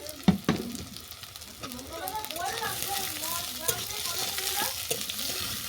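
Diced potatoes and shelled peas frying in a pan after onions, a continuous sizzle with stirring clatter and a sharp knock near the start, while a voice talks over it throughout.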